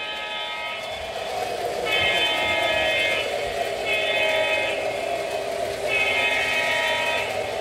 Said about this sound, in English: it rings its bell to indicate that the train is moving into a park position, as you hear